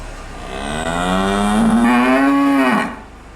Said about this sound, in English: You want to do a moo again?